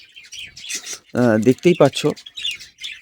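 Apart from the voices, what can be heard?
baby birds chirping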